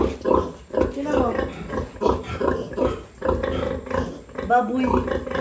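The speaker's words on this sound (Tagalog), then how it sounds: "Baboy." Pigs grunt in short, repeated bursts, a few animals close by on a farm in the Philippine countryside, with people talking over and between the grunts.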